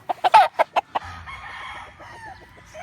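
A young gamecock stag, one of several green-legged birds, gives a run of loud, close clucks that break into a short crow, then trails off into quieter background noise.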